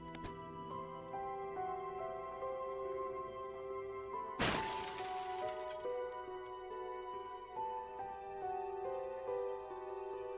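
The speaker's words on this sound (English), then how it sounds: "Your right hand shattering against his jaw." A sudden loud shattering crash in the fishing horror game Dredge cuts through a sustained, eerie musical drone. It is one sharp burst partway through that fades into the lingering tones.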